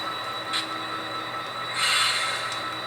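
A model train rolls steadily along the track with a continuous rumble and a high squealing tone, flaring louder near the end.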